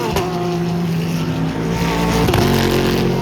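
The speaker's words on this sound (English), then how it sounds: "The Jetta absolutely rips on the track." A Volkswagen Jetta race car engine roars loudly and steadily at speed on the Road Atlanta circuit during a GT World Challenge event, a sustained close engine note with a brief shift-like change near the end.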